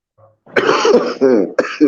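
A burst of close, harsh coughing, several hacks in quick succession with a throaty rasp, loud and alone.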